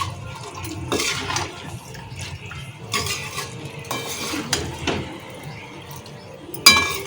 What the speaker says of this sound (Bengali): এই জলটা কড়াইয়ে ঢেলে দেবো।